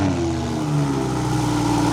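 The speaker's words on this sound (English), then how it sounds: "First, cold start on the stock exhaust with the valves open." Lamborghini cold start on the stock exhaust with the valves open, a steady, loud engine drone with layered low harmonics holding for two seconds, no voices.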